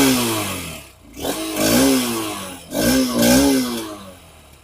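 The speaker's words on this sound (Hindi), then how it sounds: "अब इसे थोड़ा रैव करते हैं।" A Honda Hornet 2.0 motorcycle engine is blipped twice from idle, each rev rising to a loud, close roar and falling back, with a short dip between them.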